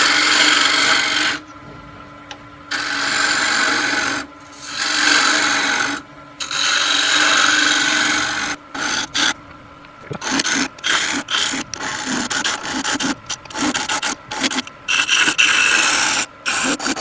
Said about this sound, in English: a radius scraper